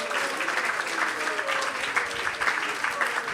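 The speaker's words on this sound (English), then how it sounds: "Let's give a big round of applause for Amrit Sagar." An audience at a Sunday feast program gives a round of applause, a dense even patter of many hands clapping at moderate level, with faint voices mixed in.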